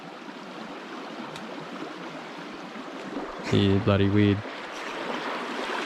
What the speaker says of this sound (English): Well, the creeks are up nice and high.